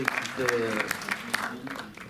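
Audience applauds at a film screening and meeting at the Méliès cinema in Montreuil: a brief, moderately loud patter of clapping with voices mixed in.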